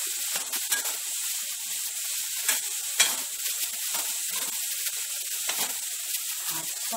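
Capsicum and other vegetables sizzle in a hot pan while being stirred for upma, a continuous bright frying hiss with scattered scraping clicks of the spoon, close and steady, no voices.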